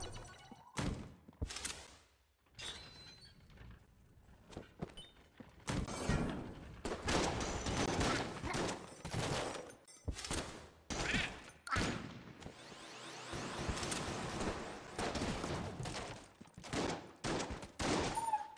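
Laser Lotus weapon firing in a video game during a Marine run, in rapid, loud bursts of energy shots that stop and start over the whole stretch, set against busy game effects.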